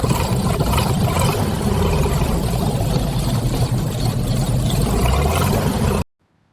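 A restored 1950s Volkswagen Type 2 bus engine runs steadily and loudly up close, a dense continuous rumble holding for about six seconds before cutting off abruptly into silence.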